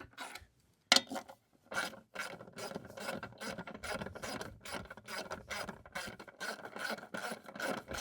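A 3/8 drive ratchet clicks through repeated short bursts of pawl ratcheting, close and fairly quiet, in an uneven rhythm with brief pauses between strokes.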